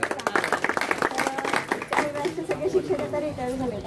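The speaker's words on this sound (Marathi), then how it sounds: "कृपा एकदा टाळ्या होऊ देऊ द्या।" An audience at a school felicitation ceremony breaks into a short burst of hand clapping, with voices talking over and after the applause.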